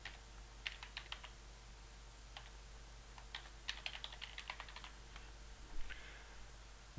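Keys tapped on a computer keyboard while a username is entered into a Pidgin chat client, arriving in short irregular bursts of crisp clicks over a steady low hum, close and fairly quiet with pauses between runs.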